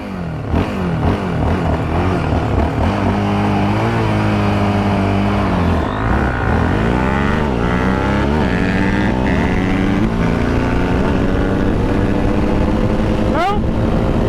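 A stock Honda CRF 250R dirt bike and a stock Yamaha Raptor ATV race side by side, engines revving loud and close with rising and falling pitch sweeps; voices talk and shout over the roar.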